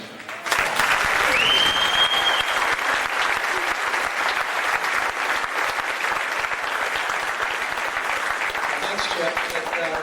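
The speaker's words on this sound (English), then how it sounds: "I'm going to give you a round of applause, and I hope everybody else here will do the same." Loud, sustained audience applause fills a venue at a 1998 stage show, starting abruptly after a short pause. Thick steady clapping carries on with a whistle near the start.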